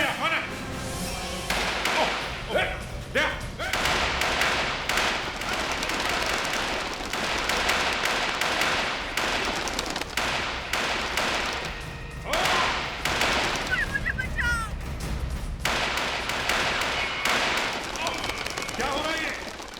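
Bursts of gunfire sound effects from a CID crime television drama set in a jungle ring out in rapid volleys and heavy thuds, mixed with shouting voices and dramatic background music throughout.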